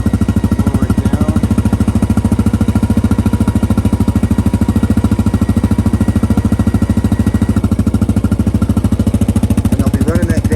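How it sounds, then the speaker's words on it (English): Gravel Rascal drag lowered to score a gravel driveway while pulled by a machine, a loud, constant rapid rattling clatter over a steady engine drone, close and unbroken throughout. "I'll be running that down a couple of times, and it'll score the driveway"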